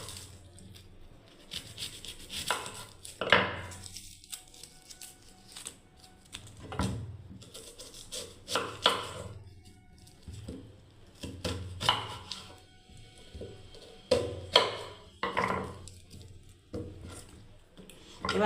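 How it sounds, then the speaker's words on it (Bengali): Onion being cut with a knife on a board, irregular clusters of sharp, close chopping taps separated by quiet pauses, some faint handling noise between strokes. "পেঁয়াজটাকে ঠিক এইরকমভাবে কেটে নিচ্ছি"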